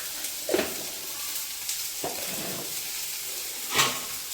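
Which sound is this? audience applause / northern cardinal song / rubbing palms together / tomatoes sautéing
tomatoes sautéing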